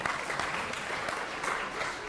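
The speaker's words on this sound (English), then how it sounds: "Round of applause for remembering the answer" A lecture-hall audience at a Yale game theory class gives a steady round of applause, a dense even wash of clapping that holds at moderate level for about two seconds.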